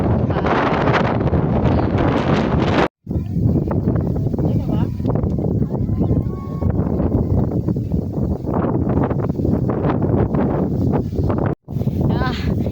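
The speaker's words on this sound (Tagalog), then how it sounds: "Malakas ng hangin." Strong wind buffeting the microphone on the Tarak Ridge summit in Mariveles, Bataan, a loud continuous roar with rushing gusts, broken by two brief dropouts.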